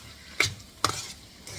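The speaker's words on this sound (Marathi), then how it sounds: "1-2 स्मॉल साईजचे टोमॅटो हे फाईनली चॉप केलेले आहेत, जे आपण थोडेसे आता परतून घ्यायचे आहेत" Finely chopped small tomatoes sauté in a pan, soft sizzling broken by a few sharp stirring scrapes at intervals, close and fairly quiet.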